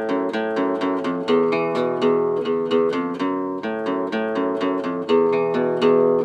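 Acoustic guitar plays a riff, a steady loop of clear, ringing plucked single notes in a bouncing rhythm, close and solo with no voice.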